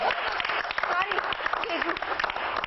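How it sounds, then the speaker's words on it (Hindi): Audience at a Hindi kavi sammelan poetry recital clapping in a dense, continuous burst of applause, with people talking over it. "इस पे ताली होना था"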